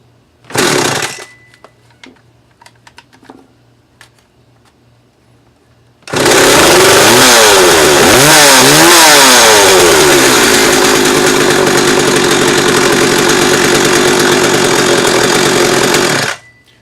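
McCulloch 3818 chainsaw, freshly repaired after a carburetor clogged by bad gas: a brief sputter at the start, a few seconds of quiet, then the engine runs loud and close for about ten seconds, revving up and down, before cutting off.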